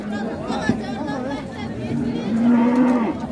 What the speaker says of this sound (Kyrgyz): Уйлар.